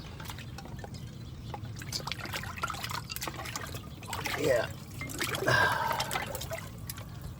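Water trickles and pours in a cold plunge tub, a soft steady liquid flow under constant background noise with a brief louder splash, while a person talks.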